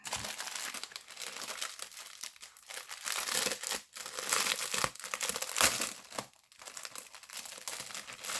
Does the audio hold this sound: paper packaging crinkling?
yes